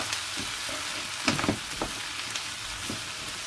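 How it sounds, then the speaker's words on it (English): Okra (ladyfinger) frying in an egg curry masala and being stirred in the pan gives a steady close sizzle, with a few louder stirring scrapes near the middle. No one speaks. "So at this stage I'm also adding the okra"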